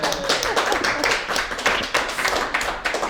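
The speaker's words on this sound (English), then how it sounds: "let's have a big round of applause for Bonnie Roy" An audience applauds a speaker at a talk on justice, a few seconds of steady, fairly close clapping from a modest crowd with no voices over it.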